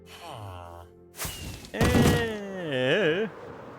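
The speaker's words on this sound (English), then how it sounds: "Oh, it was a zombie attacking a door." In Minecraft, a zombie attacks a wooden door with a few heavy wooden thumps, mixed with groaning zombie voices and in-game sounds, loud and close.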